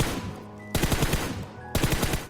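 Automatic gunfire rattles at the training ground in the PUBG video game as short bursts are aimed at target heads: two dense, rapid volleys of loud shots, one after the other, with a brief quieter gap between them.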